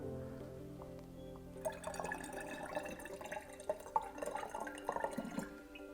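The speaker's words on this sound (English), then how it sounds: "the next step is to pour our coloured water into the bottles" Coloured water is poured through a funnel into bottles, starting as a quiet trickle and then building into a steady, bubbly gurgle with small drips and splashes. It sounds close by, with no talking.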